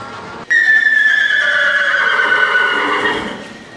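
A horse gives one loud, close neigh that starts abruptly, holds a long wavering whinny, and fades out after about three seconds, with no distinct hoofbeats standing out.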